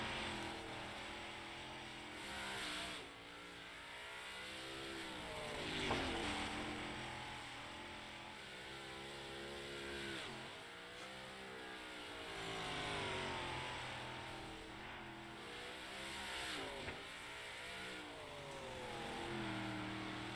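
Race cars roar around the dirt track at Fairbury under Friday night lights, engines rising and falling in repeated passes as they accelerate, brake and slide through the corners, loud and continuous.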